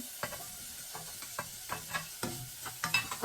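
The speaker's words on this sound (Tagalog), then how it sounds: "Ilalagay na natin yung ating meat," Ham frying in a hot pan without added oil, with a soft steady sizzle and repeated scraping stirs at an irregular rhythm, close and quiet, with no talk.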